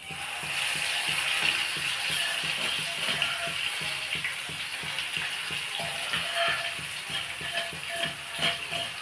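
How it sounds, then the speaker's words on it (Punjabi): A tadka for ginger chutney sizzles in a pan, a moderate crackling hiss with a fast, regular ticking rhythm running under it throughout, and no voices. "ਪਾ ਕੇ ਤੜਕਾ ਲਾ ਲਿਆ ਆਪਾਂ"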